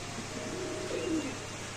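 A racing pigeon in a cage gives a single soft, low coo, faint against a steady background hum.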